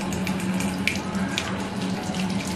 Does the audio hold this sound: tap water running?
yes